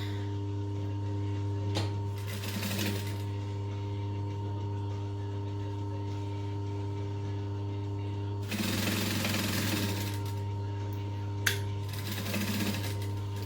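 A sewing machine back stitching at a 2.5 stitch length starts and stops in several short, close bursts separated by quiet stretches of low hum, with a small clack near the end.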